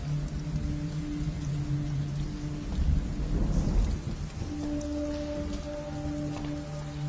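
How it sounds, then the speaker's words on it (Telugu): Heavy rain pours steadily in a thunderstorm, with a low rumble of thunder swelling near the middle; sustained tonal hums run beneath the downpour throughout. "వర్షం ఇప్పుడప్పుడే తగ్గేలా లేదు"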